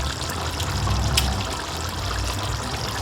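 Water is poured into a bowl holding seasoned duck pieces for a Jamaican curry duck, a steady splashing trickle with a small splatter midway, close and alone without talk.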